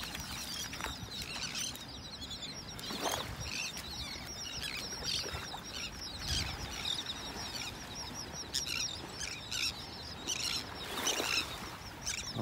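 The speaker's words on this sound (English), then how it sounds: "Listen to all those birds." Birds chirp and call along a beach in North Naples, Florida, where pelicans sit nearby. Scattered bright calls come and go over a constant wash of wind and surf, with no talking.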